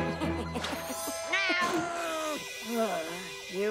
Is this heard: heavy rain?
no